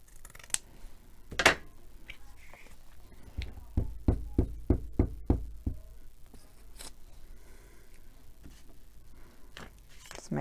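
Scissors snip through paper in a quick close run of about eight crisp cuts, with a few scattered single snips and handling knocks around them, all fairly quiet.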